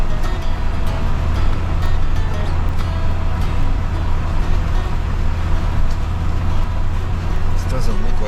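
A truck engine labors uphill in first gear on a mountain trail, a steady low rumble running throughout with a driver talking over it.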